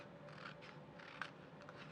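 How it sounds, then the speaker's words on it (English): Scissors snip away excess craft vinyl around cut letters, giving faint, close, quiet cutting sounds over a low background hum. "I'm just going to cut away all of my extra vinyl."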